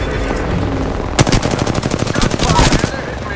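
Rapid automatic gunfire in Apex Legends, played on Xbox in Season 5, a loud close burst of rattling shots lasting a couple of seconds after a brief lull.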